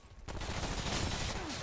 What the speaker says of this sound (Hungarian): Nem tudom elképzelni, hogy honnan lő az ellenség.